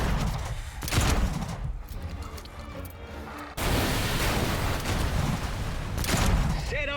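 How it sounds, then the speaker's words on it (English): Mortar fire in the zombie game Dead Island 2, heard as loud booming blasts and crackling bursts, with a sharp onset of heavy sustained noise midway. Speech mixes in throughout. "Set off the right side mortars at will, Sarge."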